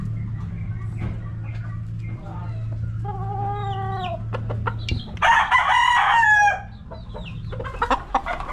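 A Boston Roundhead gamefowl rooster, about six months old, crows loudly and close by, with scattered clucks and other birds around it over a steady low hum.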